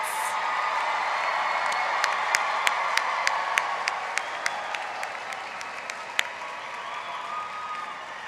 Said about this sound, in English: let's give one more round of applause for all of our graduates